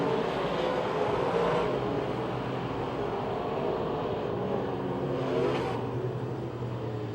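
Race cars roaring around Pennsylvania Motor Speedway near Pittsburgh during a drag-race finish, a steady loud engine drone with swelling passes and rising revs, heard from a distance across the track without voices.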